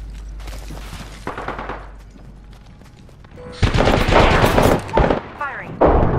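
Bursts of video game gunfire in Apex Legends, loud and rapid, with automatic weapon rattles and sharp shots, a quieter lull in the middle and then dense, heavy firing near the end.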